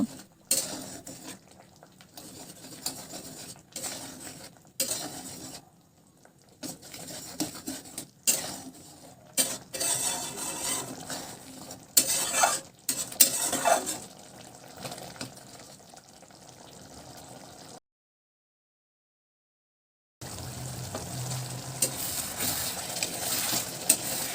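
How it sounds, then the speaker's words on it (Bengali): Koi fish curry with vegetables and mustard-poppy seed paste is stirred and sautéed in a pan, with repeated clattering spatula strokes against metal and a low sizzle, stopping briefly before resuming. "সবজিটাকে এখন ভালো করে নাড়াচাড়া করে নিয়ে সবজিটা বেশ কিছুক্ষণ কষিয়ে নেব"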